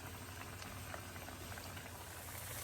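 Homemade french fries sizzle and bubble steadily in hot oil, a soft, constant crackling boil with faint pops running through the whole stretch and no voices.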